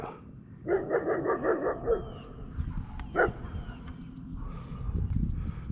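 Several dogs bark in quick bursts at a moderate distance, with a yip and some rustling between barks.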